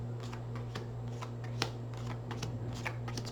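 Tarot cards are shuffled by hand in a steady run of soft riffling and flicking clicks, fairly close, over a constant low electrical hum, with no talking.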